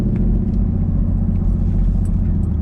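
A Chevrolet Camaro racing down a drag strip against a Supra, a loud, steady low engine roar held close for a couple of seconds with no voices.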